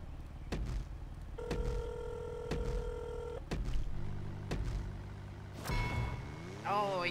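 A phone in a GTA RP game rings in electronic tones, sounding in short repeated bursts with thumps and low car noise around it, while people talk over it.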